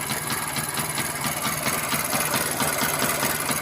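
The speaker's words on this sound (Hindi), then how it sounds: "अब ये देखें जो स्टार्ट तो खड़ी है लेकिन मिसिंग कर रही है" Motor engine fitted with a DC unit idles roughly and misfires, a steady loud mechanical drone with uneven knocking pulses running throughout, no talking.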